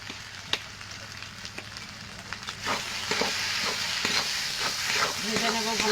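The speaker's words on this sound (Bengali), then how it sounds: "এবার ভেজে রাখা চিংড়ি মাছগুলো দিয়ে দেবো। এবার নাড়াচাড়া করে নেব।" Banana flower fries with prawns and chili powder in a pan, giving a steady sizzle and hiss broken by scraping stirs and clinks of a spoon, close and fairly loud, with a voice talking at times.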